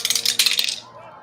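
Dice dropped for an APBA tabletop baseball game, a quick burst of bright clattering and rattling rolls for most of a second, then settles into a faint tail with no talk over it.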